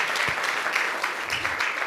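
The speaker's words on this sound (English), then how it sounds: "So special applause to her for her great work." A conference audience at an international education forum gives a steady round of applause, with dense overlapping claps and a few sharper individual ones, and no voices.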